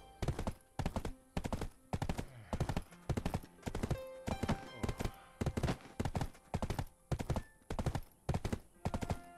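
Loud, rhythmic hoofbeats of a horse galloping at a steady pace, repeated clip-clop strikes close by with no talking.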